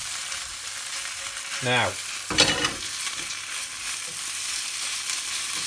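Spices and chili powder sizzle and hiss in a hot pan for a rajma kidney bean curry, with a burst of stirring scrapes near the middle over steady frying noise; a brief spoken word comes early.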